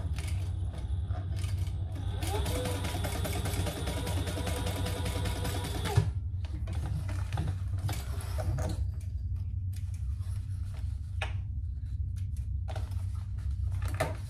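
A sewing machine chain-stitches fabric, whirring steadily and loudly for about six seconds, then running in shorter intermittent bursts among handling noises.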